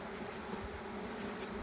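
Honey bees buzz steadily during a hive inspection, a close, even drone lasting under two seconds with no talk.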